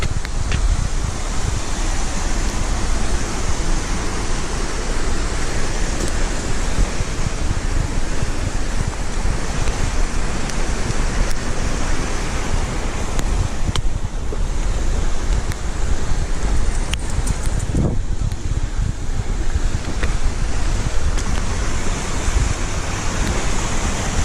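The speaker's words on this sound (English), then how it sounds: "Nothing but waterfalls as far up as I can see." Waterfalls along the Black Forest Trail roar as a steady, loud broadband rush of falling water, constant throughout with some wind buffeting against the microphone.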